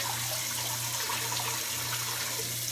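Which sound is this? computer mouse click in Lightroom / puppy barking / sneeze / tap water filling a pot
tap water filling a pot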